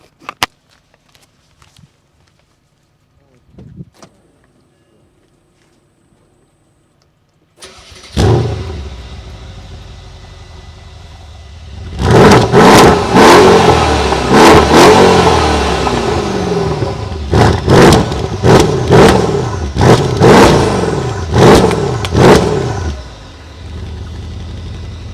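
A Mercedes-AMG S63 with quad exhaust tips fires up with a loud burst and settles into a rumbling idle, then is revved hard several times in sharp, repeated bursts, close to the microphone.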